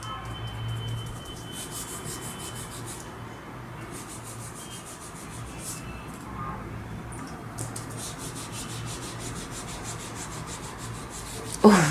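Wet paper being rubbed off a wooden board after a Mod Podge photo transfer, a steady, soft, close scrubbing that continues evenly for several seconds, with a small bump at the very end.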